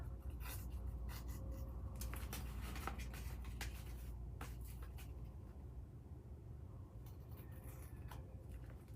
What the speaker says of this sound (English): So I'm going to tear this off.